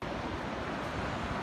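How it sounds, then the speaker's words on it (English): Ocean surf at a beach, a steady, dense wash of breaking waves with some wind, heard alone and fairly loud throughout. "And I'm going to watch the waves,"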